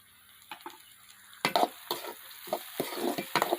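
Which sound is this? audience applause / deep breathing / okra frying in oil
okra frying in oil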